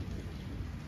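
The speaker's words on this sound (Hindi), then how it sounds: "बिजली का कड़कड़ाना भी आपको सही सुनाई दे रहा होगा" Heavy rain falling hard outdoors, a dense steady roar with a deep rumble of thunder running underneath it.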